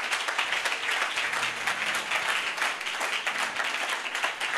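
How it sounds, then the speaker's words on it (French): A church congregation applauds during a sermon, steady dense clapping held at an even level for the whole stretch with no voices breaking through. "Si tu veux acclamer, acclame-le bien."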